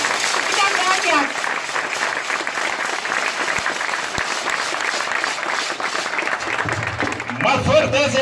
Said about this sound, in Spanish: Más fuerte ese aplauso, respetable concurrencia.